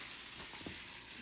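Close, steady sizzling of homemade nitrite-free bacon frying in a pan, a bright crackling hiss throughout with no talking.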